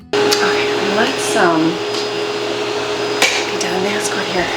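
A household vacuum cleaner runs steadily with a loud, even whine and roar throughout, while a person talks over it nearby.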